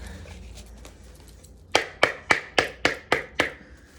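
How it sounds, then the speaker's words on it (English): Angel reading cards being shuffled: a faint rustle, then a run of seven or eight sharp, evenly spaced card slaps, close and clear with no voices. "Shuffle real quick."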